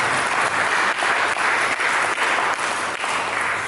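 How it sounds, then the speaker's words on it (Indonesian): A church audience at a sermon bursts into sustained applause, loud and close, a dense steady clatter of many hands that holds for several seconds with slight dips, no talk over it. "Jika tepuk tangan."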